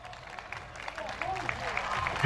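Crowd at a bullfight in Aguaí claps along to live band music as an announcer urges them on; scattered rhythmic claps sit over music and a talking voice, growing fuller toward the end.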